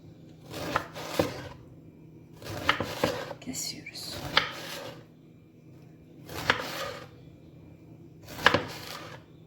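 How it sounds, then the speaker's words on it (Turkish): Knife cutting through an aubergine on a chopping board, in five separate bursts of a few quick cuts each, close and fairly loud, with quiet pauses between them. "Şöyle arka kısmını kesiyoruz."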